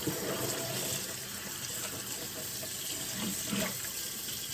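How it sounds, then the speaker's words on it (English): A kitchen sink sprayer rinses a whole raw turkey, giving a steady splashing hiss of water with small gurgles and shifts as the stream moves over the bird, close by and without talk. "Go through one more time with the sprayer."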